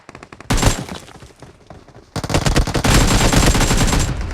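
Gunfire in a Free Fire battle royale video game rattles in loud, rapid automatic bursts, one burst after a brief quiet start and then a longer sustained stream of shots.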